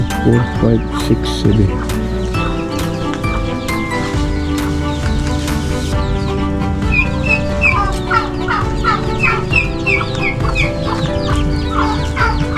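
A hen clucks softly and repeatedly among her chicks, whose high peeping chirps overlap throughout, with a person speaking nearby in a small backyard poultry setting.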